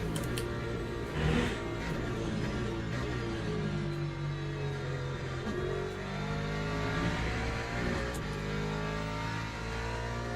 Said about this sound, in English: we've got the LMP3 coming through now